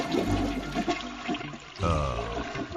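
A toilet flushes with a loud rushing gurgle of water that swirls and drains, then surges again partway through as the tank refills. The sound is close and continuous.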